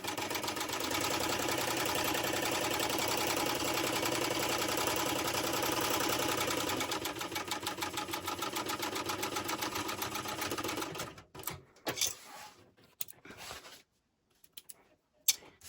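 A sewing machine runs a long continuous stitch along the edge of a shoulder bag at a quarter-inch seam allowance, a fast steady rattling hum for about eleven seconds before slowing into short bursts and stopping.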